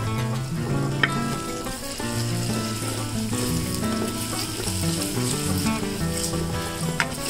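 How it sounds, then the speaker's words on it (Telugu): Chopped ginger and fish curry ingredients frying in oil, a dense continuous sizzle with occasional sharp clicks of a utensil against the pan, while music plays underneath throughout. "బాగా ఆయిల్లో ఫ్రై అవ్వాలి."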